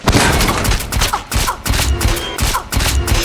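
In a movie scene, a nail gun fires nails in a rapid run of loud, sharp bursts, close and intense, with booming impacts and no talking.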